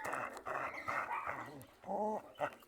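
A dog gives short whimpering, growly barks during bark-control training, several brief vocal bursts at moderate distance, fairly quiet with room noise between them.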